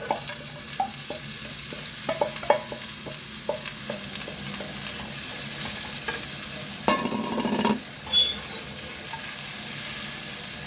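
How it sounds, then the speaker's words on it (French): Onions, shallots and garlic sauté in a little olive oil with a continuous close sizzle. Irregular utensil taps and stirring scrapes sound throughout, and a louder burst of sizzling comes near the end. No one speaks. "on va mettre nos oignons, échalotes et ail à revenir"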